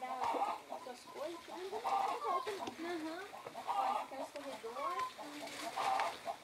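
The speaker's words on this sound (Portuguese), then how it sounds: "ali tem uma galinha pescoço pelado" Naked neck chickens cluck repeatedly in a farmyard, a busy run of overlapping calls close by with several hens sounding at once and a brief crow-like cry mixed in.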